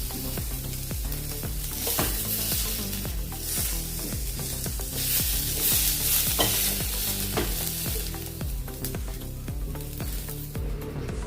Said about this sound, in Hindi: ऐसे बीच बीच में मैंने चम्मच से ऐसे इसको हिलाया है।